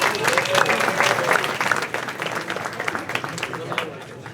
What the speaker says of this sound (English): How about one more round of applause for our Man and Woman of the Year,